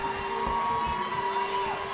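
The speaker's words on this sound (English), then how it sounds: "You can hear the roar of the crowd here" Sold-out crowd at a high school volleyball match between Brownsville Pace and Brownsville Veterans Memorial, a steady wash of cheering and roaring voices filling the gym, with a sustained tone running through it.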